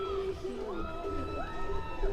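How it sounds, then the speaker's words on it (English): Cricket crowd cheering a wicket at JB Marks Oval during a One Day Cup match between North West Dragons and Dolphins, a soft distant roar with whoops under a commentator's voice. "The crowd goes wild here at the JB Marks Oval."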